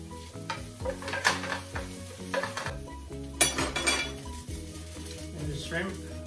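Garlic sizzling in a pan with onions for shrimp linguine in cream sauce, a steady fry beneath clinking metal utensils, scraping stirs and a few pan knocks, with a low tonal hum behind it.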